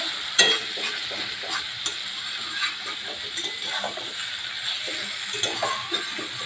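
Banana flower and prawn mixture sautéed and stirred in a pan for fried chops, with steady sizzling and intermittent scraping clinks of a spatula against the metal, close and continuous.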